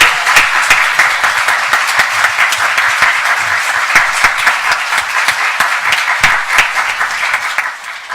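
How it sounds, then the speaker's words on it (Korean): A congregation claps loudly in a church service, a dense, continuous burst of applause that holds steady and fades slightly at the end. "좋으신 하나님께 박수 치면서 하나님께 찬송과"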